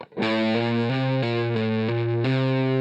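Distorted electric guitar playing a smooth legato run of hammer-ons and pull-offs, notes flowing into each other in a steady, even rhythm.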